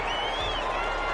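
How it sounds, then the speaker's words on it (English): Stadium crowd noise from a PS4 American football game during a home game plays as a dense, steady roar of cheering and whistling that fills the whole stretch without a break. "The crowd's not doing that O-line any favors. Home field advantage is really kicking in, making it very difficult for them to hear the snap count."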